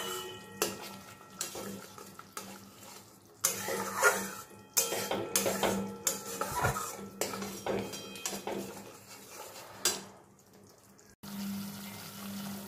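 Spice masala with chili powder and sugar being stirred and fried in a pan for paneer kofta curry, with repeated metallic scrapes and clinks of a spoon against the pan, irregular and close, a sizzling bed underneath.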